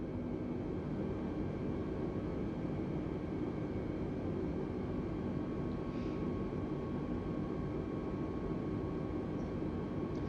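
Steady, continuous drone of Airbus A320neo engines in an easyJet airliner cockpit in Microsoft Flight Simulator 2020, a dense broadband roar with faint tonal hum, unchanging and moderately quiet throughout with no talk.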